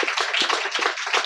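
A congregation claps during a sermon, with rapid overlapping handclaps in an irregular rhythm, close and fairly loud, with sharp individual slaps standing out from the group.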